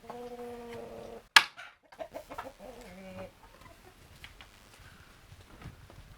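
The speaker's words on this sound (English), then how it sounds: "See the chickens?" Chickens cluck and chatter in short bursts after a sharp bang, with a few clearer calls early on and quieter clucking continuing in a barn with deep bedding.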